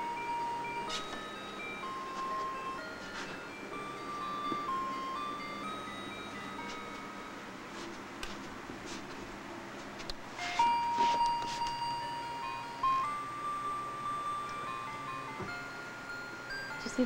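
A baby play gym toy plays a tinkly electronic chime melody, faint and steady in an indoor room with soft background noise and a few louder knocks and rustles.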